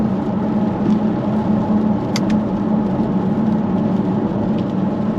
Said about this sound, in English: the V8 has the better exhaust noise